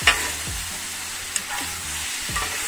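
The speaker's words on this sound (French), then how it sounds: "Si vous êtes à la poêle ou au wok, et ben vous faites sauter vos légumes" Vegetables being stir-fried in a wok or pan with marinade: a steady hiss of sizzling, with a few soft scrapes and tosses of the food in the hot oil.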